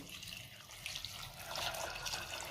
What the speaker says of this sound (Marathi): आता आपल्याला ह्यामध्ये पाणी घालायचे